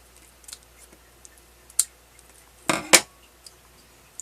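Scissors trim dead roots from a small Dendrobium orchid during repotting, giving a brief cluster of crisp, close snips near the end of an otherwise quiet stretch.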